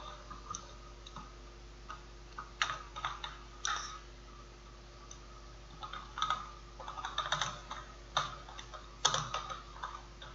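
Computer keyboard typing as text is entered into an Excel spreadsheet table, irregular bursts of crisp key clicks with brief pauses, fairly close and clear over a quiet hum.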